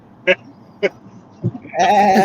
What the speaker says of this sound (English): Doofy, how's the goat down there?